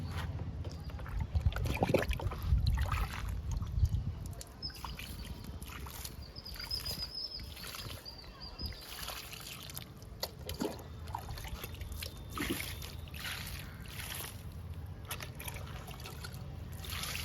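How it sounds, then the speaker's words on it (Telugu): Water trickles and splashes gently onto chrysanthemum plants and soil in a garden, a soft continuous pour with a few louder gushes, close by and without speech. "ఇచ్చేద్దామండి వాటర్ని చామంతి మొక్కలకి"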